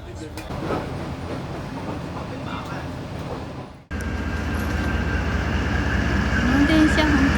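A Vietnam Reunification Railway train ride near Hanoi and Ninh Binh, with a steady rolling rumble and rattle inside the carriage that cuts out briefly, then returns louder with a faint squeal. Voices talk over it.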